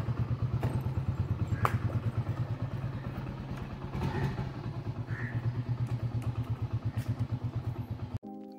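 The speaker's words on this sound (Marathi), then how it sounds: "बाईक स्टार्ट केलेली आहे" Motorcycle idling right after being started, a steady close low thump-thump pulse running throughout, with a faint clatter and a brief rise midway, cut off abruptly near the end.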